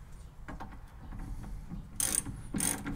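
A ratchet clicks in a few short bursts while loosening a shock absorber nut on a 1971 VW Bus, with quieter metallic handling between the louder rapid ratcheting near the end.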